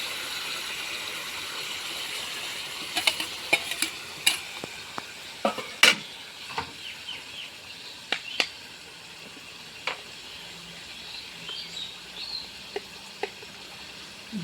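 Ginger, garlic and green chilli paste fries in a pan for a mutton curry with jackfruit, a low sizzle punctuated by sharp spatula clicks and scrapes clustered near the middle, then sparser.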